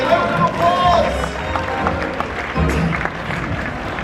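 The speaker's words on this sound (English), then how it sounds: "Give them both a round of applause." Crowd applause at the special effects show at Universal Studios Hollywood: a short burst of clapping from a large audience, with a loud voice over a sound system partly covering it.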